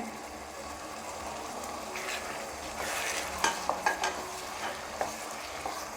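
Mustard seeds sizzle and pop in a hot pan for mango pickle, a soft steady frying hiss broken by a few sharp crackles and taps near the end, with no talk.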